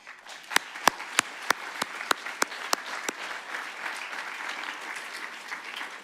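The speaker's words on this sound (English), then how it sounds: "And a final sound applause to all the winners." Conference audience applauding the winners at a closing session, a steady wash of clapping from many hands with a few sharp nearby claps at the start, gradually settling.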